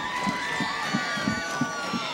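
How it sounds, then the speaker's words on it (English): A crowd cheers and shouts at a high school football game at Millennium High School, with a loud, sustained roar and rhythmic bursts of whoops. "And that brings this crowd to life here at Millennium High School."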